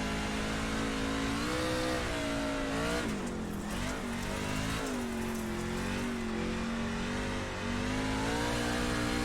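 A dirt oval racing truck in the iRacing sim revs hard and steadily, its loud engine drone rising and dipping in pitch through the corners with a brief lift around the middle, no talk over it.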